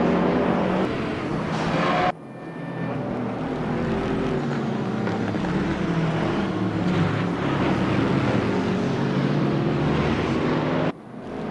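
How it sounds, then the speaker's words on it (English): A Bentley racing car's V8 engine, shared with Mercedes-AMG, roaring at Spa during an endurance race, with a loud sustained drone that cuts briefly at about two seconds and again near the end. "V8 engine shared by the"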